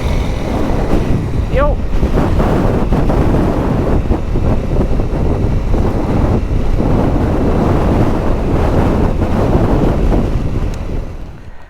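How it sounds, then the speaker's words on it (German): Strong wind buffets the microphone outdoors in Croatia, a steady, loud roaring rumble that lasts the whole time, with a brief spoken word near the start. "der Wind, der pfeffert jetzt schon wieder gut rein hier."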